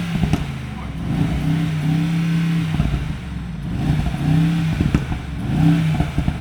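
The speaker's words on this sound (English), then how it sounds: "Twin turbo V8, that sounds damn clean" A stock 585-hp Mercedes-AMG G63 twin-turbo V8 revs nearby in several rising throttle blips over a rumbling idle, with faint background clatter.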